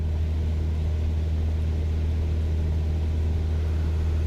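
Light aircraft engine at cruise power, 2,300 RPM at 5,500 feet, heard from inside the cabin as a loud, steady, unbroken low drone with no talk.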